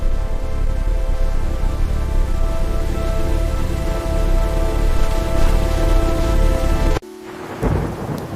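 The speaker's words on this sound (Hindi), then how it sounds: "मूसलाधार वर्षा हुई और सूखी धरती फिर से जीवित हो उठी।" Heavy, dense rain pours down steadily and loudly over thunder for about seven seconds, then cuts abruptly to a quieter patch of rain.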